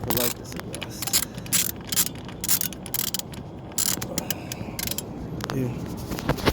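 Rapid metallic ratcheting clicks in short bursts, close by, with brief pauses between strokes, as a ratchet tightens a bolt on a Kawasaki Ninja 400 exhaust.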